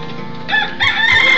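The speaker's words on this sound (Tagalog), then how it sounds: "Manok, manok naman, manok." A rooster crows loudly and close by in short bursts that build through a brief moment, with no talk over it.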